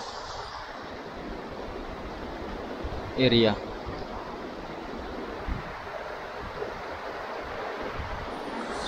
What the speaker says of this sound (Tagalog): Walang ibang maririnig kundi yung tunog ng tubig.